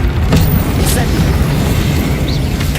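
An Incendio fire spell cast in Hogwarts Legacy bursts with a loud, booming whoosh of flame. A dense rumble runs steadily for about three seconds with a few sharper pops.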